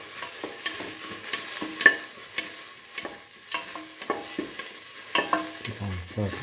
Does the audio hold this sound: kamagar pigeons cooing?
no